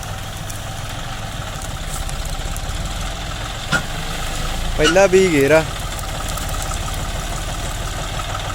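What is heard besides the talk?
tractor engine idling with loaded wheat trolley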